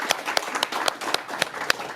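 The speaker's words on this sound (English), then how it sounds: "Let's give all of our speakers another round of applause" Applause for the speakers at a board of governors meeting: a brief run of distinct claps at a steady rhythm, fairly close, from a small audience.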